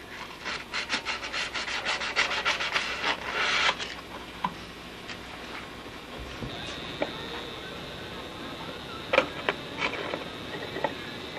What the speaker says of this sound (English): polish the wire, get all the paint off the wire, polish it up a little with some fine sandpaper